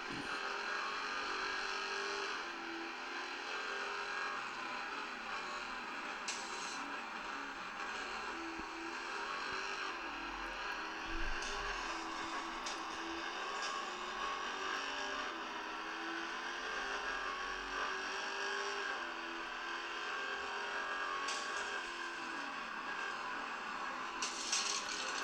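Synthetic car engine drone from a mobile racing game on a Xiaomi Mi Max 2 phone, a steady, fairly quiet whine with shifting revs and occasional faint clicks across the whole stretch, without talk.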